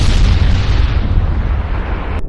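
A large clay-bomb blast from the Naruto anime erupts as a loud, deep rumbling boom that rolls on for two seconds before cutting off abruptly.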